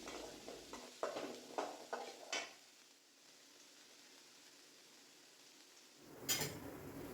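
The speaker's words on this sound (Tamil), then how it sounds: "சேர்த்து நல்லா வதக்கலாம்" Onion and grated coconut are stirred in a pan for Tamil-style egg gravy, with a few scraping, clinking spatula strokes at first, then a quiet stretch, and one more brief stir near the end.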